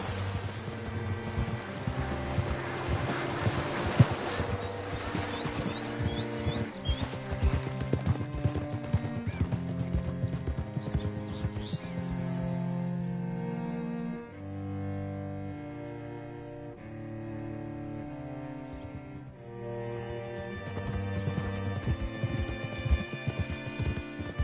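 Steady clip-clop of horse hooves in Red Dead Redemption 2, the rhythmic trot running throughout under a tonal music score, with a short whinny-like touch.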